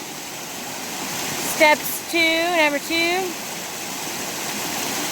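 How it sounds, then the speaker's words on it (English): A creek at a trail crossing on the Appalachian Trail near Springer Mountain rushes in a continuous broadband wash, with a short spoken phrase briefly heard over the steady flow. "Water's flowing pretty good."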